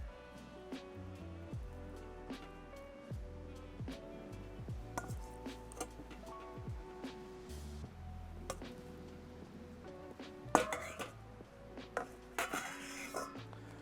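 Salad is plated into a bowl in a camp kitchen: scattered light clinks and taps of utensils against dishes, quiet and irregular, with a few sharper knocks and brief rustling bursts near the end.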